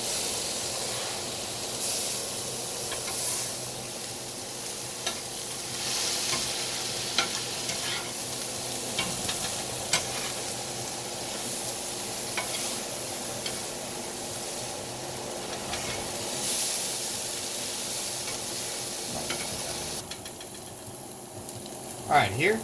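Onions sizzle steadily in a pan while being stirred, a continuous crackling fry with scraping stir strokes throughout, close and fairly loud, no talk.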